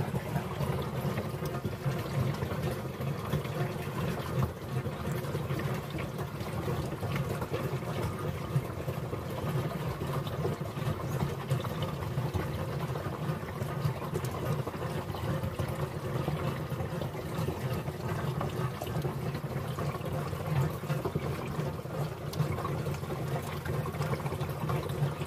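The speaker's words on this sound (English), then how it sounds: "You can probably hear the water coming in." Water runs steadily into a boat's water tank at a dock, producing a constant muffled gushing and trickling that holds at an even level throughout with no voices.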